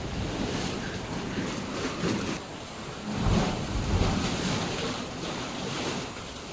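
Sea waves crash against the rocky shore at Bamangad on the Konkan coast, a continuous loud surging roar with heavier impacts rising and falling, and wind noise mixed in.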